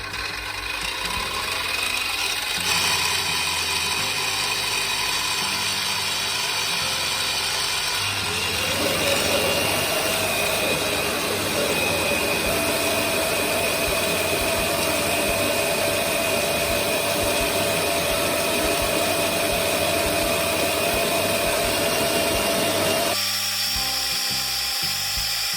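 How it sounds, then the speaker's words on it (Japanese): A drill bores holes in black resin for a knife handle, a steady loud whining grind that holds for over twenty seconds, shifting pitch as it bites in, then stops abruptly near the end, close up with no talking. "黒い樹脂に穴を開けます。"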